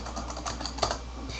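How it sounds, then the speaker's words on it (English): Quick typing on a computer keyboard, a soft run of rapid clicks with one slightly sharper tap, faint and close. "See my fast skills at typing this?"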